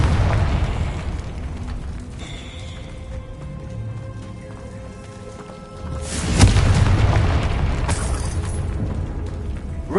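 In Hogwarts Legacy, a Confringo blasting spell sets off a deep booming explosion with rumbling fire and debris, fading, then a second heavy blast swells in near the end.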